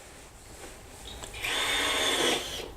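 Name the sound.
hand planer running inside DIY buzzer box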